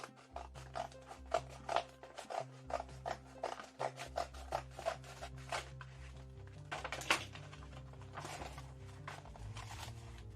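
Scissors snip through parcel packaging in a series of quick, close clicks and cuts, set against steady background music.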